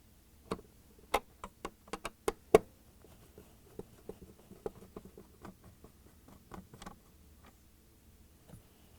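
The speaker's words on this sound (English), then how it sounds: "So we've got two Phillips screws to remove." A Phillips screwdriver works out the top screws of a Whirlpool refrigerator ice door assembly, giving a run of quiet, close clicks and ticks, bunched early and then sparser.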